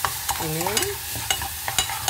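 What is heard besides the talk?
stir-frying ingredients in a pan for oxtail soup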